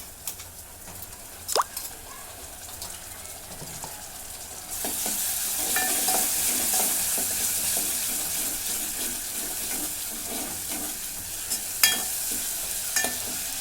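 A paste of coconut, ginger, garlic and coriander is sautéed in a pan. After a few quiet spoon knocks, a steady close sizzle rises and holds, broken by occasional scraping stirs and sharp clinks.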